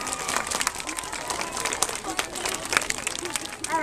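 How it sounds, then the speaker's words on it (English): A school audience claps for a group of kindergartners, a moderate ripple of applause from a crowd with faint voices mixed in, continuing steadily. "A big round of applause for the kindergartners."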